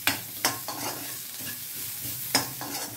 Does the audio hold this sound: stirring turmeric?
yes